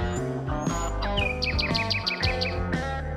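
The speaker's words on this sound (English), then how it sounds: "Kingfisher." A kingfisher calls in repeated high, quick chirping notes over steady, loud background music.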